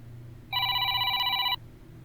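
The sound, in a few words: telephone ringing in horror video game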